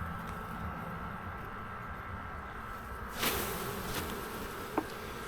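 Honey bees drone in a steady, close buzz around their hive that fills the whole stretch, with one brief knock near the end.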